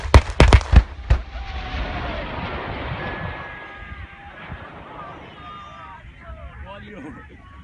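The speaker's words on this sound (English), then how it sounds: "we have a battery of Primus or Primus howitzers shooting in Wai'uru, New Zealand" Primus 155 mm self-propelled howitzers of a battery firing at the Waiouru army training area in New Zealand: several sharp, loud blasts in quick succession at the start, then a long rumbling decay with faint background noise.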